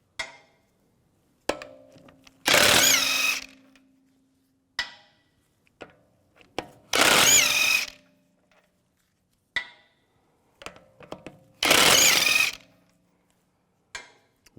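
Three loud bursts of a power impact wrench with a 17mm socket removing front wheel lug bolts on a 2004-2010 BMW X3, each lasting about a second and separated by clicks and clanks of handling the tool and socket.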